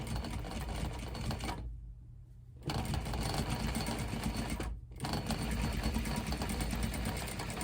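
A sewing machine stitches down a seam on a corset-style sweatshirt, whirring steadily up close and stopping twice briefly, once for about a second and once for a moment, before running on.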